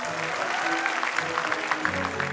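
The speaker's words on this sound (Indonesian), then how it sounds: "Beri tepuk tangan untuk Kak Robi." An audience claps for Kak Robi at the Indonesia's Got Talent 2022 grand final, a moderate, fairly soft wash of many hands with some sharper individual claps standing out.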